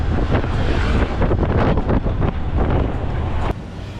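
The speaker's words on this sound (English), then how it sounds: "we're now being ushered onto the boat." Strong wind buffets the microphone on a boat ride in the Philippines, a steady loud roar with water and motor noise beneath, with no talking.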